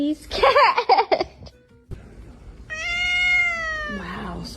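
A cat meows in a long, drawn-out, rising-then-falling call close by, after a burst of animated human speech and a short quiet gap.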